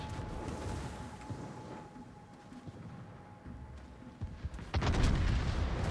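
Warship guns boom in a naval battle video game, with low rumbling under distant shots before a sudden loud, heavy volley near the end, and no talking.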